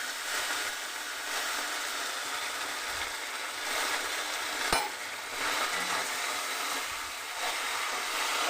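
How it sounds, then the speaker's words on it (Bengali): Cumin and ginger paste sizzles loudly in a hot pan while a spoon stirs and scrapes through it in steady strokes, a dense continuous frying hiss with no talking. "এবার আমি এতে দিয়ে দিচ্ছি জিরে আর আদা বাটা।"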